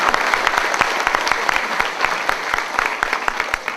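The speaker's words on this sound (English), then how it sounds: "let's give a round of applause to all these kids and teachers and leadership up here" An audience applauds kids, teachers and leadership at a fifth grade promotion ceremony, giving steady, dense clapping with sharp individual claps that stays loud throughout.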